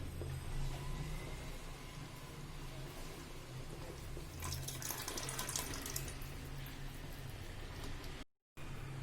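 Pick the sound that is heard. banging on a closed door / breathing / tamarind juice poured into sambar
tamarind juice poured into sambar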